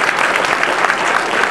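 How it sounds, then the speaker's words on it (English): Audience at a film awards ceremony in a theater applauding a young actress, a brief, dense, steady burst of clapping from a full crowd. "I'd like to give a round of applause for Olivia."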